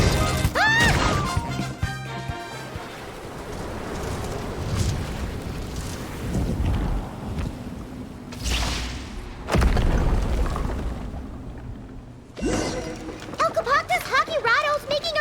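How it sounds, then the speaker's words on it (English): Blazing lava bombs exploding in Genshin Impact, several heavy crashing booms and thuds spread across the scene, some loud and close, with voices talking between the blasts. "have a taste of one of my dark Kokirado blazing lava bombs!"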